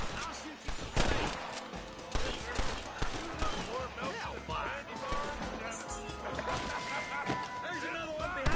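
Gunfire in the Western game Red Dead Redemption, scattered shots and impacts through a shootout, mixed under game dialogue and background score at moderate loudness.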